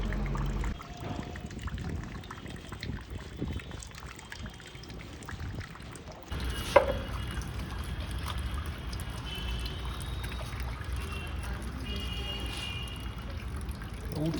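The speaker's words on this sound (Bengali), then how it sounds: "মাথায় জল দিলেই কষ্ট হয়" Water poured over a baby's head during a first bath at home, a steady splashing pour and trickle running through most of the clip, close and moderately loud, with a brief sharp knock partway through.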